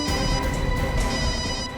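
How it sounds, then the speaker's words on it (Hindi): A mobile phone rings nearby during a tense crime-drama scene, its ringtone a loud, steady tonal melody playing continuously with no talking over it. "घंटी तो बज रही है।"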